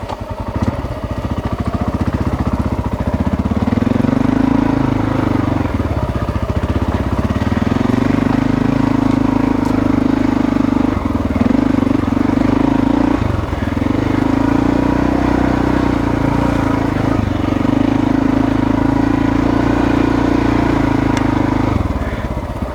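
A 1995 Honda XR600R single-cylinder dirt bike ridden on a wet brushy trail near Foresthill, its engine droning steadily and loudly up close, rising and dropping with brief throttle changes throughout.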